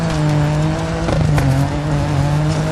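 A rally car in the racing game DiRT 4 drives through corners, its engine droning loud and steady throughout with a sustained high tone and slight shifts as it turns, tires scrubbing underneath.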